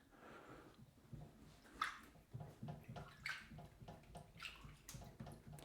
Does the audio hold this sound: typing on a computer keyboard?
no